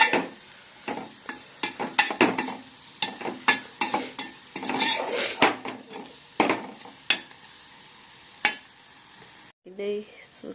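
A spoon stirs sliced onions with turmeric and coriander-cumin powder in a pan, making uneven scraping strokes over a soft sizzle. The stirring comes in bursts with brief pauses, close up and fairly quiet.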